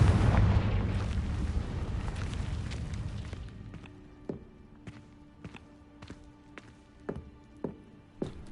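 A Confringo blasting spell goes off in Hogwarts Legacy, a loud sustained roaring burst that fades over about three seconds, followed by scattered sharp thuds and cracks at a lower level.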